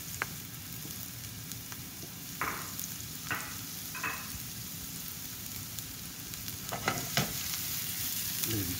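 Onion and garlic sauté in a pan with a continuous sizzle, broken by scattered clinks and scrapes of stirring. The sound is close and moderately loud, with no speech.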